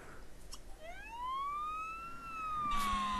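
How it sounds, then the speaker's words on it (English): Siren from The Sims 3 Ambitions video game: a single rising-and-falling electronic wail sweeping up over about a second and slowly gliding back down, clear and prominent over low background hum. "Oh, I'm putting my siren on."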